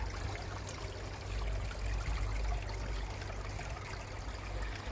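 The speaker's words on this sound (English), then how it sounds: "waterfall at full power because the sun is fully out" A small garden waterfall fed by a 50 W solar pond pump running at full power in bright sun, water trickling and splashing in a continuous close, steady babble.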